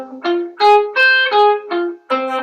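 Electric guitar picks out a minor arpeggio in second position, six or seven separate notes in a quick, even sequence, up close and with no voices.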